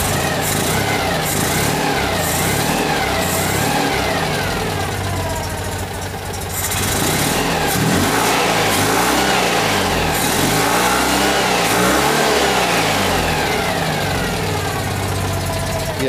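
A Citroën 2CV with a newly fitted engine runs close by, its small engine idling with a steady chatter and then revving up and back down in several swells, loud throughout.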